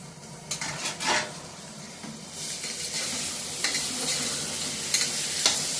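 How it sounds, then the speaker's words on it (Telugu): Tomato and turmeric powder sizzle and fry in a pan, with steady broadband crackle and occasional stirring scrapes and clinks of a utensil against the pan, fairly close and continuous with no talking. "కొంచెం పసుపు పొడి, టమాటా కూడా వేసేస్తున్నానండి."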